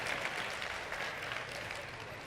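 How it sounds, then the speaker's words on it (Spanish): Audience applause in a class or workshop setting, a moderate continuous patter of clapping hands lasting the whole stretch, fairly even without a clear peak. "Aplauso para ustedes."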